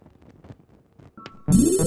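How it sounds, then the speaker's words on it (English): A phone starts ringing in Sleepytime Village, a loud electronic ringtone that cuts in abruptly after soft footsteps and small clicks, with a brief tone just before it. "That's my phone. Where did I leave it?"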